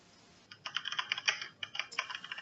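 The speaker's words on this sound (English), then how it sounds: "typing away" Rapid typing on a computer keyboard, close and clear, with bursts of clicking keystrokes separated by short pauses and no talking.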